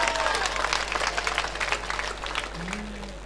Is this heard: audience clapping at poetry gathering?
yes